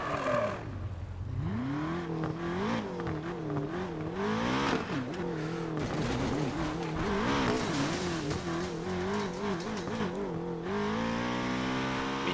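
Race car engine in Need for Speed Payback, revving up and down in rising and falling waves with gear changes, loud and close, joined by tire squeal and skidding; a final long climbing rev closes it, with no talking.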